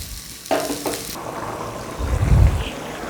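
Water hits a hot pan of spiced masala for fish-head curry, a sharp hissing burst followed by steady bubbling sizzle and a low rumbling surge near the end.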